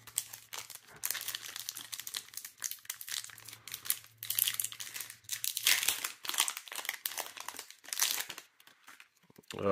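A Pokemon Darkness Ablaze booster pack is torn open and its foil wrapper crinkled, producing continuous close, loud crackling and rustling bursts over nearly ten seconds.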